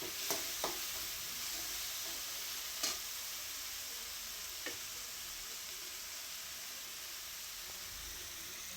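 Onion and tomato cook with a little salt in a pan, giving a steady faint hiss and sizzle with a few isolated clicks from a spoon.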